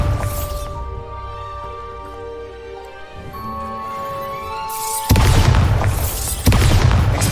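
In Hogwarts Legacy, the Bombarda spell detonates with deep booming blasts, heavy low rumbles landing after a stretch of ringing musical tones and ambient game sound, two loud explosive bursts near the end.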